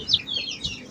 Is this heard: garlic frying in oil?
no